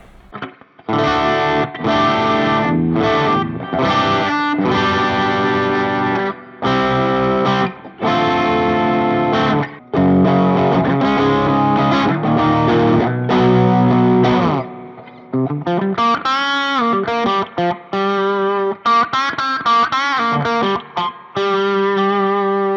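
A distorted electric guitar plays chunky, sustained chords in bursts, then shifts to a brighter, sliding melodic riff, all with heavy overdrive.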